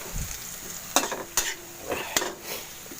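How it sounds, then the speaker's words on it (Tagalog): Garlic frying in a pan for pork giniling, sizzling steadily close up while a utensil stirs it, with several sharp scrapes and clacks against the pan. "Now we cook this until the garlic is about slightly browned."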